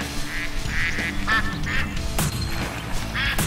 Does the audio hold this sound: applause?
no